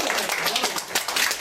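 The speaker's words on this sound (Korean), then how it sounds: "박수 한번 주십시오." Brief applause from a gathered audience at a Korean health product presentation, a short burst of mixed clapping that rises and falls, fairly close and loud.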